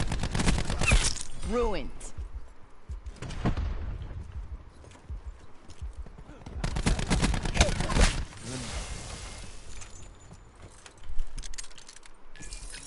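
Rapid bursts of gunfire in Black Ops 4 multiplayer, loud clattering volleys in several clusters, mixed with game effects and a brief spoken word.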